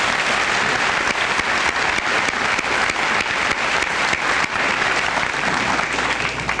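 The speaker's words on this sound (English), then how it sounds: "let's again give them another nice round of applause" Sustained audience applause fills a senior assembly hall, a dense steady patter of many hands clapping without pause from start to finish, with no voices standing out.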